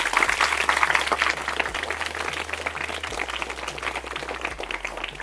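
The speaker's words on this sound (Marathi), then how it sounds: "तर सुरुवातीला सर्वांनी जोरदार टाळ्या होऊन जाऊ द्या।" A school audience gives loud applause, a dense, steady wash of many hands clapping that continues for several seconds with no one speaking over it.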